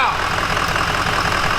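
A crew cab truck's turbocharged engine runs steadily up close, a constant loud rumble with turbo hiss across the whole stretch and no breaks.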